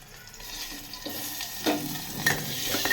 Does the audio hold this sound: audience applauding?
no